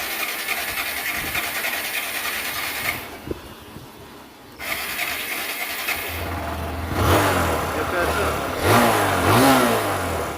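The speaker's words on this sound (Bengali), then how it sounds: "আমরা এবার সেলফ মেরে দেখি।" An Apache RTR 160 motorbike's electric self-starter cranks the engine after some quiet handling noises, followed by a rising, wavering engine note that grows louder toward the end.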